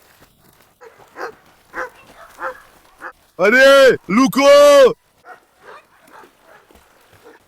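Pet dogs bark beside a large backyard swimming pool. A short, loud burst of close barks breaks in mid-clip, set between quieter sounds and a person speaking.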